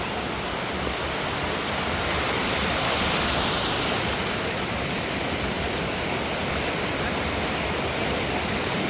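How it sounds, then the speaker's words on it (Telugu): Balmuri waterfalls near Mysuru roar as a steady, loud, broadband rush of falling water that holds unbroken throughout, with no voices over it. "ఇది బాల్మూరి వాటర్ ఫాల్స్"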